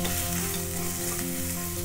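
Spices tempering in hot oil in a pan for a tomato coconut milk biryani, a steady, close, continuous sizzle and crackle of frying that holds evenly throughout with no voices.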